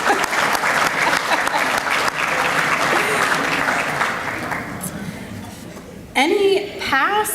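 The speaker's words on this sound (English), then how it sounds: "I'm going to clap it up for him anyways." Audience applause fills an awards banquet hall for the 2022 PATS award recipients, a dense, steady wash of many hands that tapers off, followed by a few louder close claps and voices near the end.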